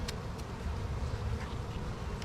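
Honey bees buzz around a troubled hive with dead bees on the ground, a low steady droning hum at close range, with a few brief, sharper passes of individual insects.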